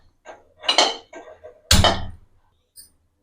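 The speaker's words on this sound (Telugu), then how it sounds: "ముందుగా స్టవ్ వెలిగించుకొని బాండి పెట్టుకుందాం." A metal kadai set down on a kitchen stove gives a few short clanks and a louder metallic thud, close and alone with no talking.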